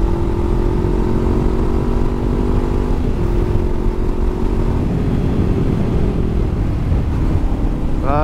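Honda CB500 F motorcycle engine heard while riding, a steady loud drone with shifting tones as the revs rise and fall, close and continuous, with no talking.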